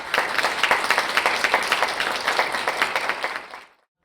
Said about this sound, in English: So can we get a round of applause for all of our partners?